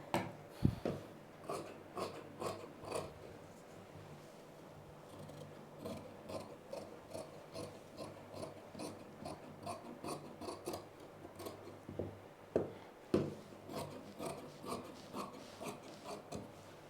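Scissors cut blouse fabric along marked lines in a steady series of close rasping snips, each stroke a short rough crunch repeating at an even rhythm, with no voices.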